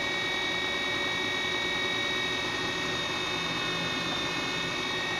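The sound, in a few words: 2x72 inch belt grinder grinding metal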